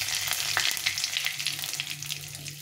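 Cumin seeds, bay leaf and dried red chilies sizzle in hot oil as a tempering, a bright crackling hiss with small pops and spits, close up and continuous, with low background hum.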